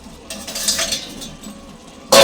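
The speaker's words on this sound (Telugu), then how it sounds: "ఇప్పుడు మళ్ళీ మూత పెట్టి మగ్గించుకుందాం." Metal lid set down on a pan of ridge gourd pieces cooking in oil, with a soft scrape and clatter followed by a sharp, loud clink at the end, close up and with no voices.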